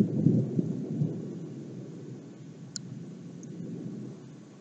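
Thunder rolls through a violent storm, a deep rumbling swell that is loudest at the start and slowly fades over a few seconds, with faint rain and a couple of small clicks, and no voices.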